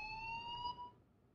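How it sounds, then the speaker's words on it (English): A school fire alarm in the Life is Strange video game rings as a steady, piercing electronic tone that holds for about a second, then cuts off into quiet room tone. "I said don't ever pull a fire alarm while you're in school, but I kind of had to."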